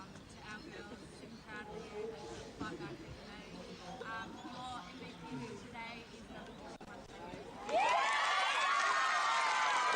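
A crowd at a women's national championship final cheers and shouts for a player, with excited voices and babble throughout and a louder surge of cheering near the end.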